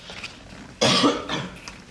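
A single sharp cough, fairly close, rising suddenly out of quiet background noise and trailing off over about half a second.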